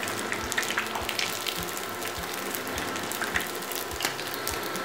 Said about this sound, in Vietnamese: Mình chiên bằng chảo thì mình phải cẩn thận nha các bạn